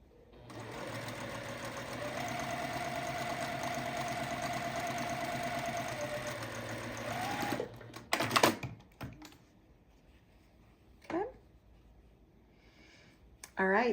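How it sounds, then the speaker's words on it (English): A sewing machine runs steadily for about seven seconds while piecing quilt blocks, then stops, leaving a few clicks and brief handling noises. "I'm going to go ahead and finish sewing all of my pieces"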